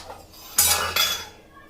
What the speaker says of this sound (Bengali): ওই ক্ষীরটা একটু চামচে করে দিয়ে দেব